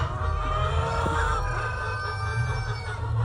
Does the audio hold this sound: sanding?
no